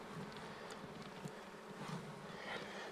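A steady, low drone of many honeybees buzzing together at an opened hive on heather, close and continuous, with individual bees passing by.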